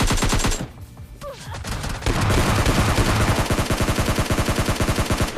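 Dense gunfire in the battle royale video game PUBG Lite, loud bursts of rapid shots that pause briefly, then a long sustained stream of fast repeated automatic fire.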